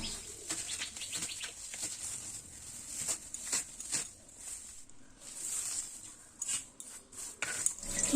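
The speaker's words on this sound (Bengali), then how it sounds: "কুমড়ো শাকগুলোকে কিন্তু খুব কচলে কচলে ধুতে হবে।" Chopped pumpkin leaves are rubbed and rinsed in water by hand, giving irregular soft splashes, sloshes and wet squelches, fairly close and fairly quiet, with no talk.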